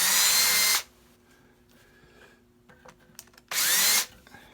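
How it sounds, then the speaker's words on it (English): A power drill bores a small pilot hole in wood while a barn chair is being repaired. Two short, loud, close whirring bursts are separated by a quiet pause. "I'm going to drill a small pilot hole."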